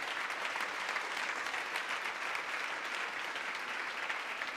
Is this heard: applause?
yes